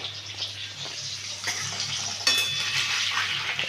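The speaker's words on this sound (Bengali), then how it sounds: "ডিমগুলো একটু আমি নাড়াচাড়া করে নিচ্ছি।" Eggs being stirred in a tiffin box with turmeric and chilli powder for steamed egg dim bhapa, a steady scraping and clinking of utensil against the container over a low hiss, louder after a sharp clack midway, with no talk.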